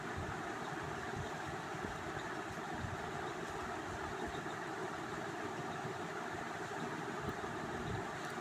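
Sewing machine stitching a plain kurti, a steady continuous mechanical whir with fast even motor hum running unbroken for the whole stretch, moderately loud and close with no talking.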